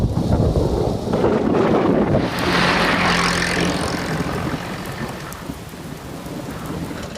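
Steady, heavy rain hisses throughout while a deep roll of thunder swells early, peaks and fades away into a continuous downpour in a Postman Pat thunderstorm scene.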